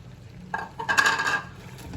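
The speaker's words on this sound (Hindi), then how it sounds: "जो अपनी भिंडियाँ मैंने फ्राई की थी वो हमने डाल देनी है" Fried okra is tipped into chicken in a pan and stirred, giving a short burst of metallic scraping and clatter, close and fairly quiet, with no one speaking.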